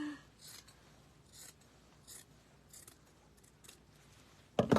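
Fabric scissors snipping through fabric for a no-sew snowman ornament, a handful of short, quiet crisp cuts spaced apart in a hushed room, ending in a brief louder clatter.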